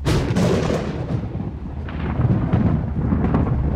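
Thunder rolls through a rainy night scene in the VR horror game Paranormal Activity The Lost Soul, a dense, loud, continuous low rumble with scattered sharper cracks.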